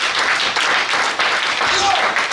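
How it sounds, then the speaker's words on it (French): Congregation at a Sunday church service applauding loudly, a dense steady wash of many hands clapping for a couple of seconds, with voices mixed in. "Acclamez très fort si vous avez compris."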